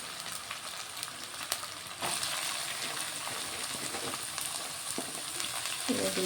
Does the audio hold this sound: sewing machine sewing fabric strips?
no